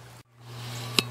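Water overflows and runs into an enclosure for forest-dwelling tortoises, giving a steady, soft rushing hiss over a low hum. After a brief dropout the flow swells back in, and a small clink is heard near the end.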